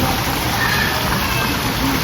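Rain falling steadily around a family's swimming spot, a dense close hiss of drops on water and surfaces, briefly and evenly.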